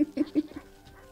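Sheep bleating in the Wytchwood video game: a quick run of three or four short, nasal bleats close together, moderately loud, then fading into quiet.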